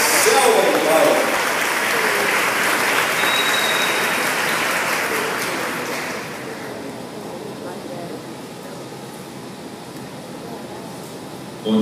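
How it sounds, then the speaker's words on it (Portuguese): Audience applause at a talk on urban transformation, loud dense clapping that fades gradually after about six seconds into a softer, thinning patter. "Salva de palmas."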